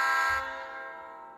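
A horn sounding on an HO scale Rapido EMD SD9 model locomotive in Burlington Northern livery, one loud sustained chordal blast that cuts off and leaves a fading ring, heard alone.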